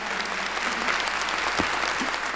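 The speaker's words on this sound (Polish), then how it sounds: "Myślę, że od wszystkich teraz te brawa popłyną prosto w twoją stronę." Applause from the audience at a charity Christmas and New Year concert in Bytom, a fairly quiet, steady patter of many hands lasting a couple of seconds.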